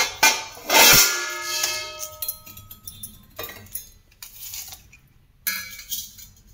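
Close metallic clinks and knocks as a heavy antique copper pot with old tin coating is handled, with a sharp ring near the start and softer taps afterward.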